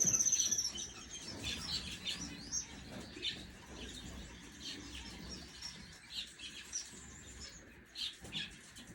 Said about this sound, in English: First 2 canaries of 2025 right here.